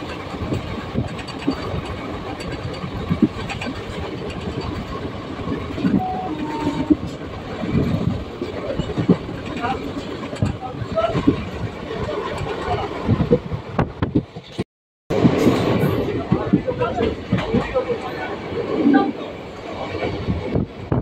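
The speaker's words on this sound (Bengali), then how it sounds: "ট্রেন এখন অম্বলগ্রাম স্টেশন ছেড়ে বেরিয়ে যাচ্ছে" A passenger train pulls out of Ambalgram station on the Katwa–Ahmadpur line, its steady rumble and clatter rolling on with a short gap partway through, while voices talk over it.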